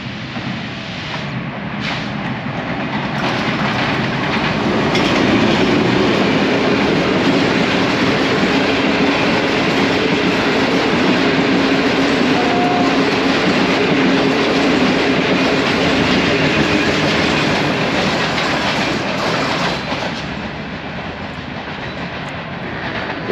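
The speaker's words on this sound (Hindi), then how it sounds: "6 down green line Margalla Islamabad से निकली है कराची के लिए, और पास थ्रू होगी गुजर खान रेलवे स्टेशन से।" A Green Line passenger express hauled by a GU20 locomotive runs through Gujar Khan railway station without stopping, a loud sustained rumble of wheels and carriages that builds, holds steady for about fifteen seconds, then eases off.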